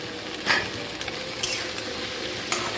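Okra and half-fried potatoes sizzling in a pan for bhindi masala, with a loud, close, steady fry hiss and a few sharp stirring clinks spaced about a second apart, no talk.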